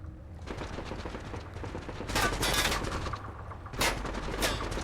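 Video game gunfire aimed at the player comes as dense bursts of rapid automatic shots, loud and crackling, with two heavier volleys standing out from the steady rattle and no talk over them.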